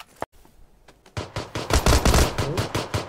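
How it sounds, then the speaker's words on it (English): Rapid automatic gunfire in the battle royale game PUBG, a brief shot then a sustained burst of loud, close rattling fire that keeps going to the end. "Oh, they're shooting at me?"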